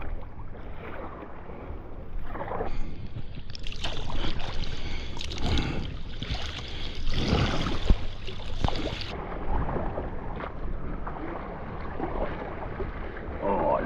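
A washed-up kayak paddled in toward Camp Cove, with water splashing and sloshing at the hull under steady wind buffeting the microphone, fairly close and continuous throughout.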